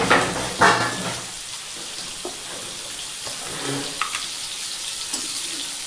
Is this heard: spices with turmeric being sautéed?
yes